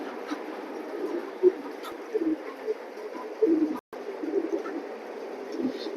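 Racer pigeons coo steadily at close range with soft, low, repeated calls, joined by faint rustling and a brief drop-out near the end.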